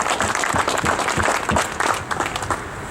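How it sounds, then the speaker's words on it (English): A rally crowd claps in a round of applause, dense overlapping hand claps from many people at middle distance, steady for about three seconds and fading slightly at the end. "Give me a round of applause."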